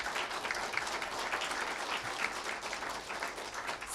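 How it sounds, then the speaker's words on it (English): An audience claps steadily, a dense, even wash of applause that carries through without a break. "I think we should give these candidates a big round of applause."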